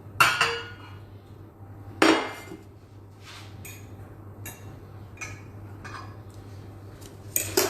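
A cheese omelette of three eggs slid onto a plate at home, with a sharp clatter of pan or utensil on the plate, a second clank about two seconds later, then lighter clinks and taps, with no voice.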